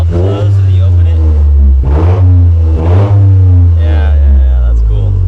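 Toyota GR Corolla with a catback exhaust revving loudly close by, several throttle blips swelling over a deep idle, with people talking over it.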